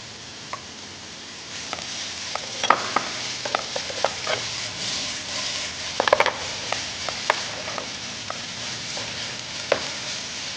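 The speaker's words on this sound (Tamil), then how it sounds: "இப்போ வந்து நம்ம இதில் டொமேட்டோ போட போகிறோம்" Tomato pieces going into a hot pan for a Chettinad-style egg roll filling, with a steady low sizzle and a series of sharp spatula scrapes and taps as the mixture is stirred, close and clear with no talking.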